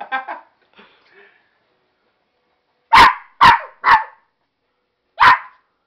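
A dog barks four sharp, loud times in a dog-versus-parrot scuffle in Santa Rita do Pardo, after a short stretch of faint voice sounds and near silence.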